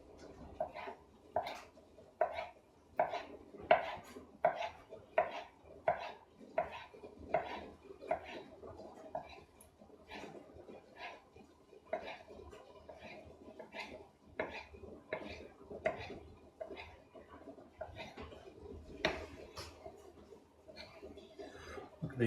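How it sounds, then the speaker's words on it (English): A knife chops bacon finely on a board in a kitchen, a quick, regular run of faint, close taps that goes on for about twenty seconds with soft background noise. "Then we can just finely chop our bacon."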